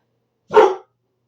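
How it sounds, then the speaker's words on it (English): A single loud, close dog bark, sharp and short, with silence before and after. "What are you barking at?"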